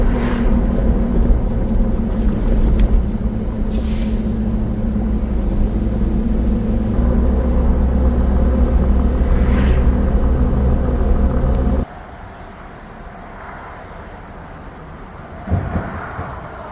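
A car cruising along Route 66 in Missouri, a steady low engine and road rumble that holds for most of the stretch, then drops to a quieter idle near the end.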